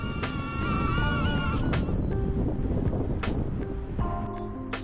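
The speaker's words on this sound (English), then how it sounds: "It's extremely windy for this small tiny drone like this" Strong wind buffets a small DJI Neo drone during an outdoor flight test, a loud, steady roar of gusting wind and mic buffeting throughout, with faint tonal whine and a few sharp clicks.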